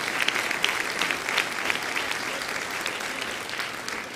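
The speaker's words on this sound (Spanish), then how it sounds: "vamos a recibir con un aplauso al Señor por los siervos del Señor" A church congregation applauding during a Sunday service: a continuous, even wash of clapping from many hands at moderate volume, with no speech over it.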